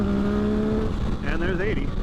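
A 2022 Yamaha XSR900 motorcycle pulls hard uphill in second gear from about 6,500 rpm, its engine droning loud and steady, with wind buffeting and a voice speaking over it partway through.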